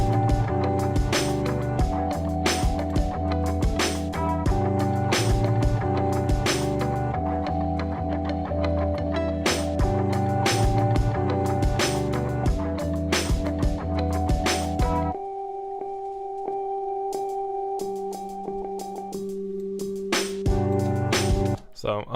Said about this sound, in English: just like a hip-hoppy sort of beat, pretty chill